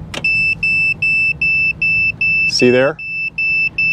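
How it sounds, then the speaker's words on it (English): A non-contact voltage tester held near an RV's 20 amp breaker beeps in a steady repeating pattern of short, loud, high-pitched alarm tones once the breaker is switched on, with a brief spoken remark partway through. "Sets the alarm off, letting me know that it's energized."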